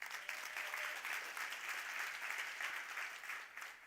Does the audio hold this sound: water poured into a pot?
no